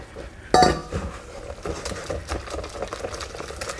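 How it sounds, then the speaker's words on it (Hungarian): Flour being stirred into zucchini pancake batter in a bowl, with a sharp clatter of a utensil against the bowl near the start, then steady scraping and clinking as mixing continues, close and fairly quiet, with no talk. "Folyamatosan keverés közben szépen lassan adagolom hozzá."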